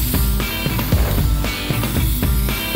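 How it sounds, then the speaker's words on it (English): Spray paint can coating panels silver, a series of short hissing bursts with rattling clicks between them, loud and close, no talking. "Now I'm gonna spray paint these silver."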